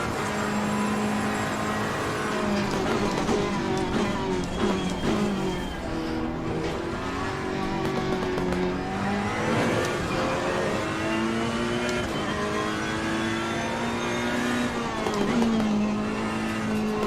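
Several GT3 race cars at Monza in a racing game, engines droning and shifting pitch steadily as they accelerate and lift through the chicane, loud and continuous throughout with no talk.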